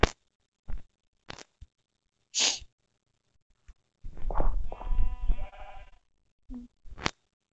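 Sheep bleat in a video game: several short, separate calls with gaps between them, then a longer burst of layered tonal bleating near the middle, followed by a few more brief calls, moderately loud with no talking.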